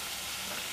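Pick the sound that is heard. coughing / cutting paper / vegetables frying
vegetables frying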